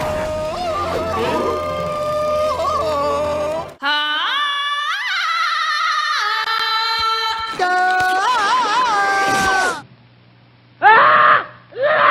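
A loud, sustained yodeling jungle yell like Tarzan's from Disney's Tarzan (1999), with warbling pitch swoops over a scored backdrop, followed by a short quieter gap and a final burst.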